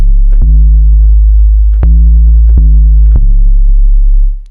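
Deep 808 bass synth notes sound one after another, a handful of long booming tones that slide between pitches, loud and alone.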